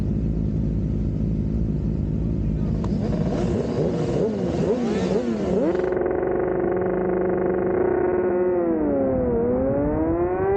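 Off-road race vehicles launching off the start line at a SOAR 2022 round, a loud continuous engine roar with wavering pitch sweeps as gears change and speed builds, heard from onboard without talk.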